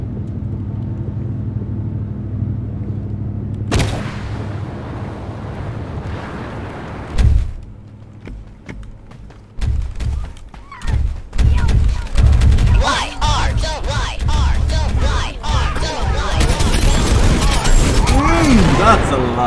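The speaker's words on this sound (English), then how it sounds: "someone is throwing a lot of grenades right now" Grenade blasts boom repeatedly in Totally Accurate Battlegrounds, loud, heavy explosions arriving in clusters among rumbling game noise, with a voice talking over them.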